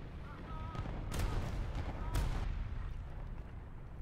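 Distant gunfire in War Thunder striking a PBV 501 vehicle, heard as a few faint, sharp cracks and bursts over a low battlefield rumble, fairly quiet and spread across a few seconds.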